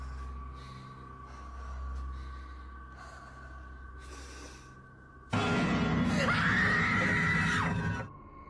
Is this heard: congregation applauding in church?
no